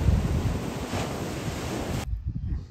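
Windy seaside surf at Tywyn, Wales, with waves breaking and spray blowing, a loud steady roar buffeted by wind against the microphone that drops off sharply near the end.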